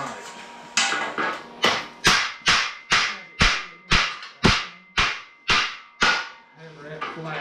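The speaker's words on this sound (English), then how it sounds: "Hammer that flat." A hammer strikes metal repeatedly while flattening part of a Model A subrail, about a dozen loud, sharp ringing blows in a steady rhythm, each decaying quickly, close by in a workshop.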